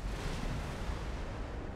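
A ship exploding in the space game X4 Foundations, a dense, continuous low rumbling blast with a steady roar of debris noise, loud and sustained throughout without any voice.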